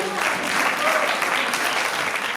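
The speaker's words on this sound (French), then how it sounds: "je voudrais vraiment qu'on les applaudisse" A graduation audience at the CFPPA agricultural training centre in Antibes gives a dense, steady burst of applause, loud and full throughout before stopping abruptly.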